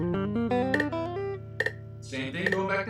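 Guitar finger exercise played up close: a picked downstroke followed by quick hammer-on and tapped notes with index and ring fingers, a short run of clear, ringing single notes in brisk succession, played solo without talking.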